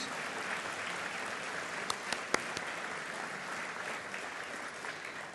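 Steady applause from a luncheon audience at a regional chamber of commerce annual meeting and awards event, honoring the chamber ambassadors; dense, even clapping fills the room throughout, with a few sharper claps standing out midway.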